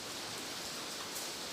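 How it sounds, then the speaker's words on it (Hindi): Heavy rain falls in a steady, dense hiss that stays even throughout, fairly faint and with no voices. "देखें कितनी तेज़ बारिश शुरू हो गई है"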